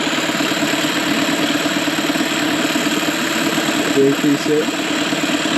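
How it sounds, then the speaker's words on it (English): A small outboard boat engine runs steadily with a buzzing drone, someone speaking briefly over it as the pitch rises slightly near the end. "You can hear the engine speed up a little bit."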